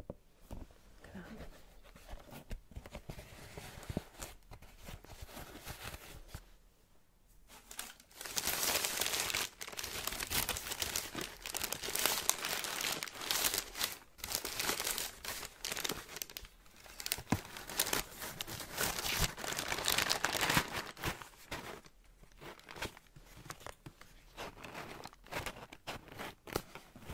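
Sneakers being wrapped back up in paper in a quiet shoe shop setting, with soft crinkling and rustling that swells into a long, dense stretch of close paper handling.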